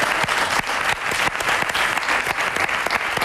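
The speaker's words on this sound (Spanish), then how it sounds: "yo pido un fortísimo aplauso para ellos" Loud, dense applause from a television studio audience in a Spanish talk show, a steady wash of many hands clapping with sharp individual claps poking through, filling the whole stretch without speech.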